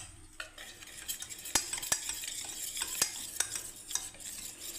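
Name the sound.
mixing besan gram flour batter with water by hand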